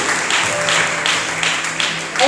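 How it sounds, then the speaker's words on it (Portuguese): Audience applause rings out in a church during a worship panel: a steady, dense wash of clapping with swelling pulses, fairly close and filling the room, with no clear voice over it. "Aplaudimos para a glória de Jesus Cristo."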